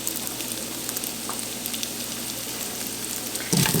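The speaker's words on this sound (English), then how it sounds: "Add a little bit of more olive oil, and I'm going to bring in the potatoes." Red potatoes frying in olive oil, a steady close sizzle with light crackle that swells louder near the end as more pieces hit the pan.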